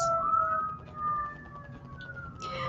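A distant siren wails in long rising and falling tones, steady and moderately faint, with no talking.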